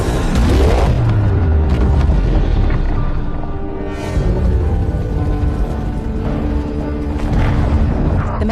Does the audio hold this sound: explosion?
yes